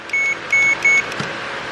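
Three short, high electronic beeps from a Power Probe circuit tester in quick succession, each about a fifth of a second long, over a low steady hum, followed by quiet, while testing a fuel pump that will not prime.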